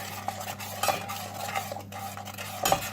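A spoon stirs caramel in a pan off the heat, with a steady low hum behind it, and its scraping strokes land in loose rhythm with a few brighter clinks of metal against the pan.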